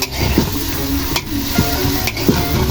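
Beef skin sizzles and fries in a pan while a utensil stirs it, scraping and knocking against the metal in a loose rhythm, close and steady, with sharp clacks at intervals.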